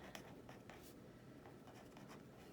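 A pen scratches across paper as algebra notes are written out, soft strokes in short repeated bursts over a steady background hiss, with no speech.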